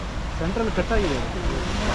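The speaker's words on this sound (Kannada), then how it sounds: "ಜೋರಾಗಿ ಅಲೆಗಳ ಅಬ್ಬರ ಇದೆ ಸೌಂಡು ಇದೆ" Loud rushing wash of sea waves around a deep-sea fishing boat, a continuous broadband roar under a person speaking.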